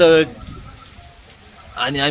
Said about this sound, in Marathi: पाऊस तर लय खतरनाक चालू आहे बाई